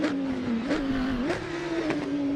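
Porsche 911 GT3R race car engine in the racing game Assetto Corsa, a loud, continuous close-up engine roar that rises and falls with several quick gear changes, with no voices.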